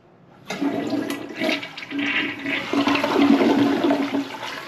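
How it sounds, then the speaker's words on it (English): A toilet flushes with all-new tank parts fitted, a sudden loud gush of rushing, swirling water that starts after a brief quiet moment and keeps draining strongly and steadily to the end. "Look how good a flush is now."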